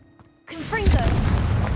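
A Confringo blast spell goes off in Hogwarts Legacy, a sudden booming burst after a brief quiet moment, followed by a sustained crackling, rumbling roar that fills the rest of the moment.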